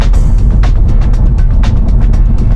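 A 2016 Honda Civic drives along a road with a steady low engine and tire rumble, loud and close from inside the cabin, with faint periodic bumps and no talk.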